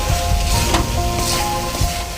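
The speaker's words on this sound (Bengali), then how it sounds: "আমাদের মশলাটা কষানো হয়ে গেছে" Spice paste for Bengali chicken kosha frying in a pan, a loud, close, steady sizzle with soft scraping of a stirring spoon.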